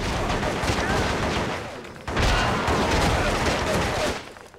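Dense, sustained gunfire in the PS2 war game Shellshock: Nam '67, a loud continuous volley of rapid shots running nearly five seconds with a brief break midway.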